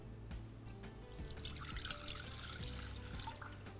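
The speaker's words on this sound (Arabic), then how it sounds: "في كاسرولة هحط الحليب" Milk pouring into a saucepan while making a creamy milk pudding, a soft steady liquid stream splashing and trickling at close range, fairly quiet, with no talking.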